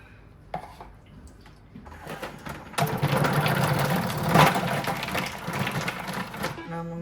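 A Thermomix TM7 fitted with the Cutter Plus attachment slices food into thick slices: a few clicks, then a loud, steady whirring and rattling of the blade for several seconds before it stops.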